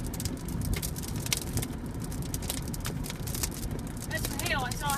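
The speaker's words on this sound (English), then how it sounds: "That's hail. I saw hail. Yeah, there's hail." Heavy rain pounds down in a dense, constant roar during a severe thunderstorm, with hail mixed in, and an excited voice speaks near the end over the downpour.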